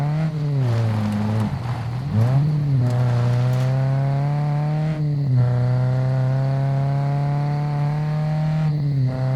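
A car engine in the survival game SCUM hums steadily while driving, with repeated revs and gear changes rising and falling, loud and close with no talk.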